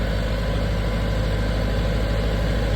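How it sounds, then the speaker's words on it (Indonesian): A 40 kVA diesel generator engine runs at a steady, loud, close idle with a constant low drone and no talk. "sampai mesinnya betul-betul stabil, solarnya mengalir"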